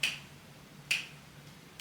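Three sharp finger snaps land in an even, slow beat, crisp and close against a quiet background.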